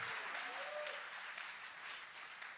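Congregation clapping their hands in praise at a prophetic conference church session, a steady faint wash of many hands filling the room with no voice over it.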